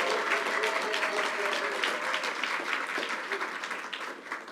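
An audience at an anti-hate crime rally breaks into sustained, loud applause that fills the whole stretch, dense and steady with some crowd noise mixed in.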